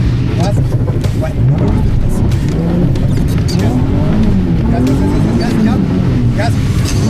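A car engine on a driving course roars under full throttle, revving hard and climbing steadily with rising pitch, loud and close throughout, with a voice briefly heard over it.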